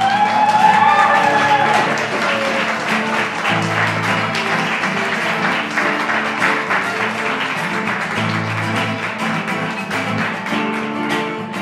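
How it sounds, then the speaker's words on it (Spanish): A concert crowd in Madrid claps for the bass player, loud sustained applause with scattered cheers and stage tones ringing underneath, holding strong throughout. "Un aplauso, por favor."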